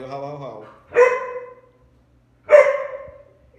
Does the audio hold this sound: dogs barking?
yes